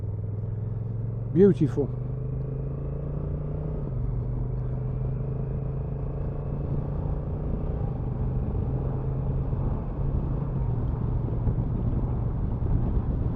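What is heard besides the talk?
new motorcycle engine downshifting through gears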